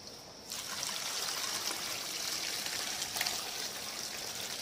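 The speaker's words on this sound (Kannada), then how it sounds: "ಸ್ವಲ್ಪ ನೀರು ಹಾಕೋಣ. ಹಾಕು ಪಪ್ಪ. ತರಕಾರಿ ಬೇಯಷ್ಟು ನೀರ್ ಹಾಕಿದ್ರೆ ಸಾಕು." Water pours in a steady trickling stream into a pot of vegetables for sambar, close and continuous after a brief quiet start.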